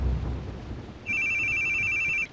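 A telephone rings unanswered, one electronic ring tone of about a second, clear and close over a low rumbling background like rain or thunder, with no voices.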